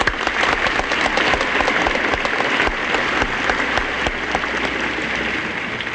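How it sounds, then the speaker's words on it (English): Guests at a formal anniversary dinner burst into applause, a thick steady clatter of many hands with sharper individual claps standing out, continuing without speech. "I wish we could all just applaud them."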